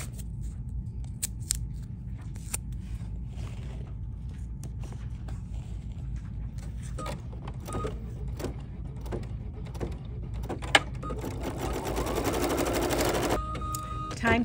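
A sewing machine stitches appliqué pieces held in place with tape, running as a steady close mechanical whir with small clicks that grows louder and denser near the end.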